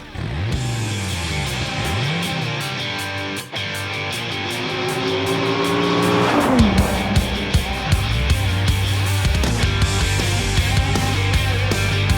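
A 2016 Dodge Viper ACR race car drives fast, its engine roaring loud and steady with pitch climbing and dropping through shifts, close and unbroken.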